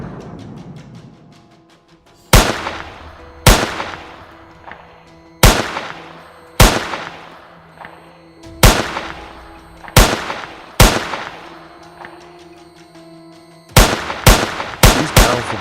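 Gunshots fired at a wild boar during a hunt ring out as a dozen or so sharp, loud cracks, spaced irregularly and then clustering in a rapid burst near the end, each followed by a brief echo.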